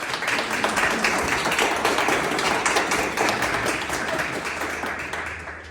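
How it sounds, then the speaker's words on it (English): A round of applause from attendees at a food and agricultural co-op annual board meeting, dense clapping that starts loud and slowly tapers over several seconds, heard alone. "I'll give him a round of applause"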